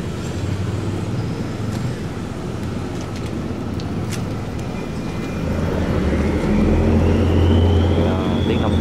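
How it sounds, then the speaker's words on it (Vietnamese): A large vehicle engine drones in a loud, steady roar that builds gradually toward the end, with a rising whine laid over the rumble. Voices talk faintly underneath. "Tiếng động cơ nghe rất là phê kìa"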